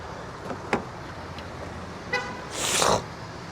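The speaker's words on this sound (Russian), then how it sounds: "Меня сигналит или нет?" A short car horn honk sounds outside, heard from inside a 2017 Honda Freed 1.5, preceded by a few fainter toots against quiet background noise.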